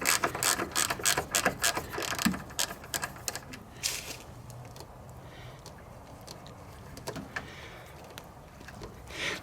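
A Jeep JK Freedom panel fastener is unscrewed by hand, giving a run of close, rapid ratcheting clicks for several seconds, then quieter handling noise with a few scattered clicks.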